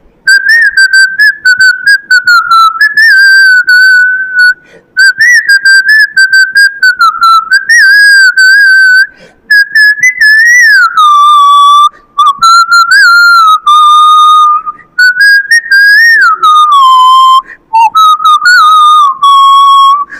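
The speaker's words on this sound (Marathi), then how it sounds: "मी शिट्टीतून गाणं म्हणून दाखवणार" A person whistles a song solo, a clear, loud melodic line with sliding and held notes broken by brief breaths across the whole stretch.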